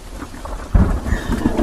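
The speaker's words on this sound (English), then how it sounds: "Let me turn off these nature sounds. I hope you guys didn't think that it was still raining outside" Recorded rain and thunder played as a sleep soundscape: steady rainfall with a deep rumble of thunder rolling in partway through, loud and with no voices.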